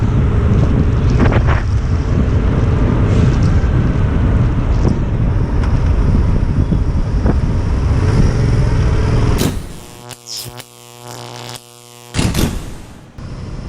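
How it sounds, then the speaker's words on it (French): A motorcycle rides and accelerates in third gear, its engine roar mixed with heavy wind buffeting on the microphone, then dropping away to quieter, broken engine sound near the end. "la moto, elle repart en troisième, c'est ouf"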